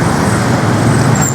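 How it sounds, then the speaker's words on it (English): Small Bangkok 9 baht city buses in hot, humid street traffic, a steady loud rumble of engines and road noise with a faint high whine above, no voices. "So these are the little 9 baht buses that you can get and take around places in Bangkok."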